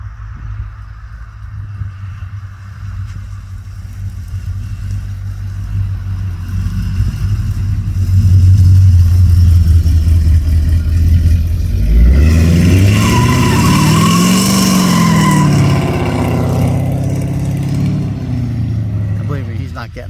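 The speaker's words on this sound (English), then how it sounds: "Burnouts in the snow" A car engine drones and then revs hard during burnouts in the snow, the pitch climbing and falling in a long swell, loud and close, with people talking over it.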